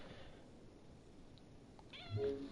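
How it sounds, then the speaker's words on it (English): A pet cat meows once near the end, a short clear cry over a steady hum of room noise and background game sound. "Wait, no, my cat trying to set her down,"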